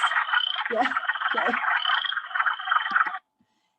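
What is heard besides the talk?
wood frogs croaking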